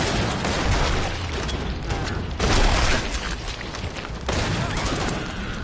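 Dense, sustained gunfire from a zombie-apocalypse video game shooter, loud and continuous with mechanical clatter, swelling in bursts around the middle and again near the end, no talking.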